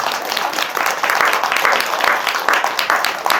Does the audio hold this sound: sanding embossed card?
no